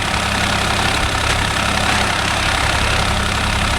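A Swaraj 744 FE tractor engine runs steadily and loudly with a constant rough diesel drone while pulling a 9-tine spring cultivator through dry land, with no talk over it.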